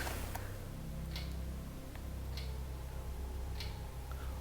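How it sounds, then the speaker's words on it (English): An air duct fan in an old asylum gives off a few sparse, faint ticks and clicks at irregular intervals over a low steady hum in a quiet room. "It's an air duct fan thing."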